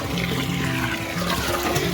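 Water runs steadily from a motor pump into a container, a continuous splashing rush with a low hum underneath, close by and fairly loud throughout.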